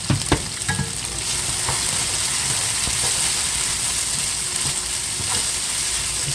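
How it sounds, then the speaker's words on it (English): Onions frying in hot oil with mustard seeds, a steady dense sizzle that holds close and loud throughout, with a few faint stirring knocks on top. "It's starting to sizzle."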